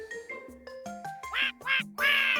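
A talking duck in the game Dread Weight quacks repeatedly, a run of nasal, honking calls that grow louder and more insistent toward the end, close and clear with no talk.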